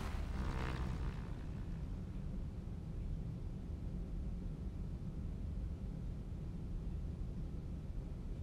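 Steady propeller drone of a simulated Cessna 172 single-engine light aircraft cruising in the Infinite Flight game, a constant broadband engine and wind roar heard from outside the plane, continuous and fairly loud with no talk.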